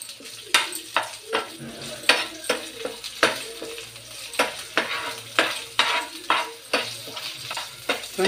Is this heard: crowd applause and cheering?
no